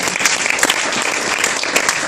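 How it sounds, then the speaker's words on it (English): Dense, steady applause from an audience at an entrepreneurs' business awards ceremony, a continuous wash of many hands clapping at even loudness for about two seconds. "Let's give them a round of applause."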